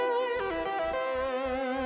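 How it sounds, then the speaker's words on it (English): A bright, buzzy, slightly detuned unison synth lead plays a short melodic line with a thick, slightly wavering tone, over a low pulsing bass beat. "which will be like a slightly detuned unison type lead sound"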